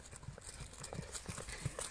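A horse being ridden bareback at a riding lesson clops its hooves in an even walking rhythm, several soft distinct steps fairly close, with no talk.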